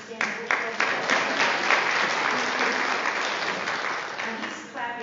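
A crowd applauds a Tecumseh High School graduate, with steady, full clapping lasting several seconds and voices talking over it before it tapers off.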